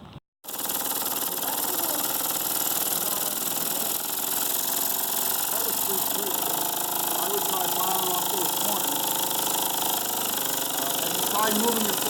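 A hand-built engine running on just 1.5 PSI gives off a steady, continuous mechanical chugging and clatter that holds at an even level for the whole stretch after a brief silent start.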